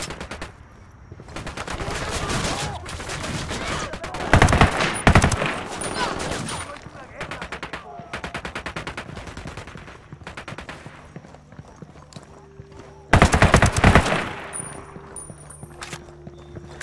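Gunfire in Tom Clancy's Ghost Recon Wildlands, rapid automatic bursts and heavier loud blasts near the middle and end, interspersed with quieter moments, with voices talking at times.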